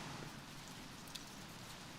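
Light rain patters steadily on and around a campsite at night, a constant hiss of drops with a single brief louder tap partway through.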